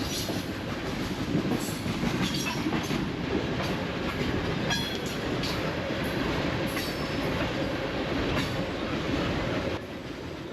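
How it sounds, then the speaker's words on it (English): A train rumbles past nearby with a steady dense roar, rhythmic wheel clatter and faint metallic squeals, continuous throughout. "And I just happened to get here as a train was passing."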